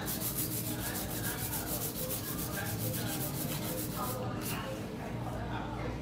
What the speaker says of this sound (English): it would take you forever to hand file a thick nail.